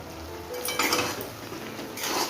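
A spatula stirs and scrapes a metal pan of bottle gourd stems mixed with poppy seed paste, with soft clinks and a steady low sizzle underneath, close and fairly quiet, no voices.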